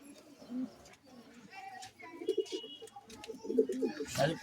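Pigeons coo in soft, repeated bursts while being handled for pairing, their low throaty calls close by and mixed with handling noise, louder toward the end.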